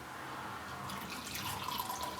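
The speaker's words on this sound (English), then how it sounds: "Bring over your 2 festive cups, which I have, and I'll just pour the first one." Hot chocolate pours from a Vorwerk Thermomix TM5 jug into a festive cup, a soft, steady liquid trickle that brightens and splashes more as it goes, close by and alone.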